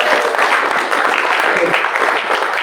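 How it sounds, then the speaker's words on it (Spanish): Congregation applauding the Lord at the close of a church sermon, a steady dense wash of clapping with voices mixed in, loud and continuous for the whole stretch. "Dele fuerte el aplauso al Señor."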